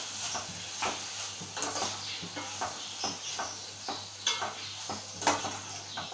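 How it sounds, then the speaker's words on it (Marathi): Malvani-style red pumpkin curry with grated fresh coconut is stirred in a pan, producing a repeated rhythm of close scraping spoon strokes over a faint, low sizzle, with no talking. "मिक्स करून घेऊया।"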